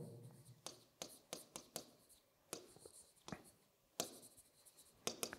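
Handwriting on a board during a talk, with a series of quiet, sharp taps and scratches at an uneven pace and a faint room background.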